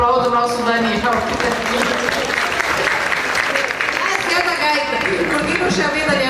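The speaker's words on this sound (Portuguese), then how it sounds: "Desde já eu peço que vocês aplaudam o nosso Daniel." An audience at a public debate gives Daniel a strong, sustained round of applause, dense and loud throughout with some cheering and voices mixed into the clapping.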